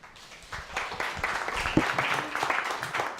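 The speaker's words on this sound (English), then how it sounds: "Round of applause." An indoor audience applauds after a prototype presentation: a dense, steady burst of many hands clapping that holds for about three seconds, with no talk over it.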